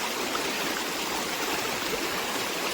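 A forest stream rushes steadily over algae-covered stones, a dense, even wash of flowing water with no voices.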